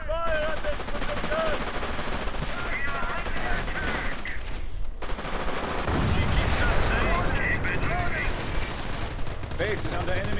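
Thompson submachine gun bursts in a World War II strategy game, rattling repeatedly through a dense battle mix of other gunfire and explosions, loud and continuous throughout.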